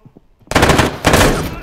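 Close-range gunfire in the video game Deadside: after a near-silent start, a loud, dense burst of rapid shots erupts and continues as sustained automatic fire, alone without talk.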